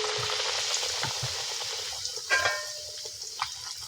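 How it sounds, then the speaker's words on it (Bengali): Dal puri fries in hot oil with a steady bubbling sizzle, broken by a few sharper spatters and stirring sounds, close and clear with no voices. "আমরা ডালপুরি কী করে ভাজছি। দেখুন তেল গরম হয়ে গেছে"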